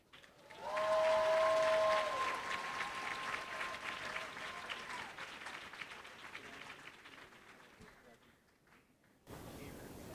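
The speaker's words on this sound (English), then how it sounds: "giving all of our honorees that you have seen thus far a thunderous St. Louis round of applause" An audience at the 2025 Salute to Women in Leadership event in St. Louis applauds an award honoree, the clapping swelling loud then slowly thinning, with a whistle near the start before an abrupt cut to quieter room noise.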